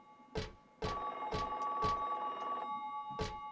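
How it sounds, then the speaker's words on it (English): A phone ringing in the Silent Hill 3 video game, a steady electric bell tone with sharp repeated strikes in an uneven rhythm, moderately loud and alone in a quiet, echoing space. "I can hear what sounds like a phone ringing"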